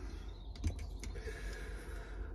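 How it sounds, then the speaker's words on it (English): A Briggs & Stratton valve spring compressor tool is wound in on a small engine valve, giving a few quiet creaks and clicks of its mechanism in a short burst, close up. "so needs winding in a bit right valve spring and valve keeper is now fully compressed"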